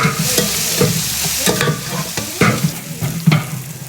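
Paneer veg biryani being stirred and mixed in a pot, with continuous scraping and sizzling, spoon knocks and clatters at irregular intervals, fairly close and loud.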